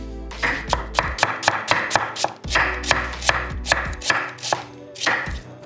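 Half an onion is sliced finely with a knife on a chopping board, a fast, even run of crisp close taps about three per second, heard clearly on their own with a short pause midway.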